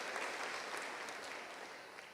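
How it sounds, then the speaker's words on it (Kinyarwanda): A church congregation applauding together, dense continuous clapping that stays full and loud for the whole stretch with no voices on top. "Given a round of applause to our God."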